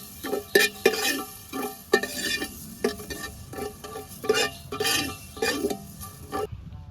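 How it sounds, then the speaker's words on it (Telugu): Dry coriander seeds roasting and being stirred in a pan while making a spicy Nellore fish curry: repeated close scraping and rattling strokes in an uneven rhythm, loud and with no talking, stopping abruptly at the end. "కొన్ని ధనియాలు ఎంపుకురాం. ఎక్కువ ఎంపుకోవద్దు, లైట్ ఎంపుకోవాలి"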